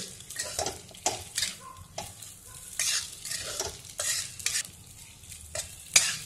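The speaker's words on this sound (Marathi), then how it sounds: "एक 2 मिनिटं चांगलं परतून घ्यायचं, म्हणजे मसाला पण सगळीकडे सारखा पसरला जातो।" Kurdai vegetable with spices being stirred and sautéed in a pan, with repeated scraping strokes over a steady sizzle, close and fairly loud, and no voices.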